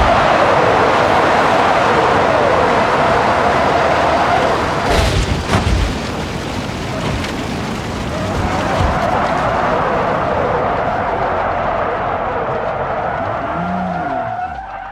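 McLaren 520S tearing along at high speed in BeamNG Drive, a loud sustained engine roar with tire skid and scrub throughout, a brief impact-like burst mid-run, and the engine note rising again near the end.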